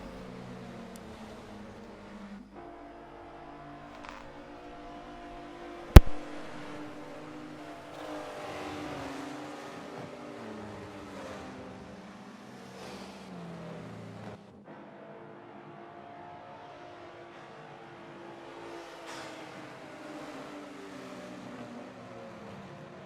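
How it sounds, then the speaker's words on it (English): About twenty-three race cars in a Le Mans racing video game roll slowly toward the start line, giving a quiet, droning engine hum with gently shifting pitch and one sharp click partway through. "enjoy the beauty of 23 cars in total slowly making their way to the line"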